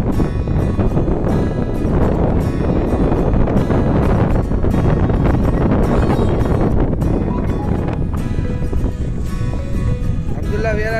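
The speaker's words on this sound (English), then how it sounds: "It is very windy." Strong wind buffets the microphone at Sharjah Beach in the UAE, a loud, constant broadband roar with gusty surges that never lets up for the whole stretch.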